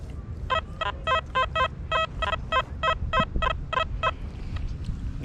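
An XP Deus metal detector in a park gives a rapid run of about a dozen short, evenly spaced beeping tones on a target, loud and alone over faint outdoor background noise.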